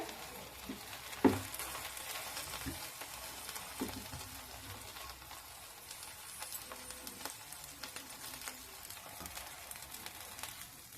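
Pav bread toasting on a hot griddle over a high gas flame for Mumbai street-style pav bhaji, giving a quiet, steady sizzle with a few faint clicks and scrapes.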